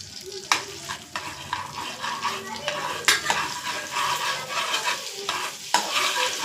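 Cinnamon, cloves and cardamom fry in melted butter in a pan, a soft continuous sizzle with a spoon stirring and scraping against the metal now and then, close up and without talk.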